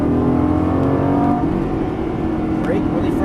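A Lamborghini Gallardo LP550-2 accelerates hard on a racetrack, its engine note loud and close with a steady rising drone, while an instructor talks over it.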